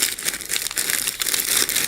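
Plastic bag holding Tylenol, Advil and aspirin crinkles and rustles continuously at close range, with irregular bursts of crackling throughout and no talk.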